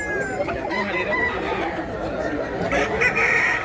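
A rooster crows amid a busy mix of other fowl clucking and crowing, voices chattering nearby, the calls overlapping in a dense, continuous backdrop.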